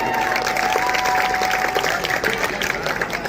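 Audience applause at a Ramlila performance by a local Ramlila club, steady dense clapping from a sizable crowd filling the whole stretch, fairly close and loud, with a faint sustained tone running beneath.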